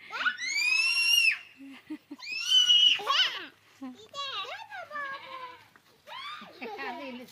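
Loud, close goat bleats and kid bleats come in several wavering bursts, with children's voices mixed in among them.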